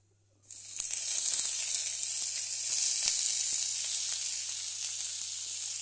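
Small shallots dropped into hot oil with dried chillies, starting with a sudden loud sizzle that settles into a steady, bright frying hiss with a few faint pops and clicks.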